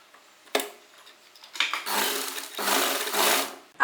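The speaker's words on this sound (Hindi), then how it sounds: "अब हम इस पर एक सिलाई लगा लेंगे।" Sewing machine stitching pleats on an Afghani salwar, running in several short bursts that lengthen into two steady whirring runs, close and alone with no talk.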